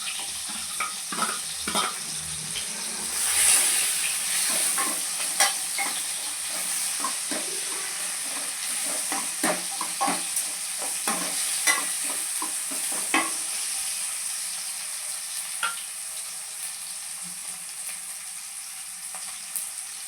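Garlic fries in a pan while being stirred, with a continuous sizzle broken by frequent scraping and clinking strokes of a utensil against the metal, loud and close.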